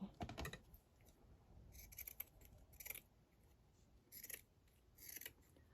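Scissors snip through material in several short, crisp bursts of cutting, close and fairly quiet, with pauses between the strokes and no talking.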